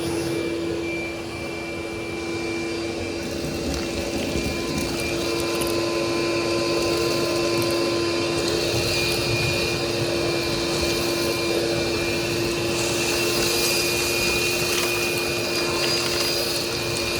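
A shop vacuum fitted with a Dust Deputy cyclone separator sucks up fine concrete dust, giving a loud, steady motor roar with a constant whine that runs unbroken from start to finish, with no voices.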